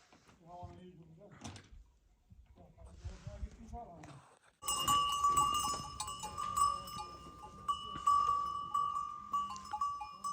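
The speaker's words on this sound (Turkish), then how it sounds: "Koyun artık yaylama doğru çıkıyor" Sheep and goats bleat, followed by a busy stretch of clanking bells and shuffling as a flock moves out to mountain pasture in thick fog, guarded by Kangal dogs, with people talking nearby.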